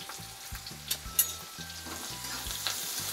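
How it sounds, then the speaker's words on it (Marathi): Onion fries in hot oil with cumin and curry leaves, a close, steady sizzle with crackling and spatula stirring strokes scraping the pan at an irregular rhythm, no voices. "कांदा जरा भाजून घ्यायचा बघा।"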